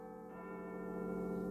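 Church bells chime as a theatre sound effect in a live stage performance of Dickens' A Christmas Carol, a sustained ringing tone with layered overtones that holds steady and swells slightly, heard alone.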